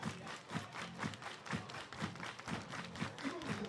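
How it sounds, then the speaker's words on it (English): Ballpark crowd at a Portland Pickles versus Cowlitz Black Bears baseball game clapping in a steady unison rhythm, roughly two beats per second, moderately loud with crowd noise underneath. "Everybody clap your hands"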